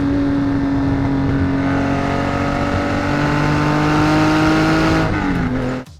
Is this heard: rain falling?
no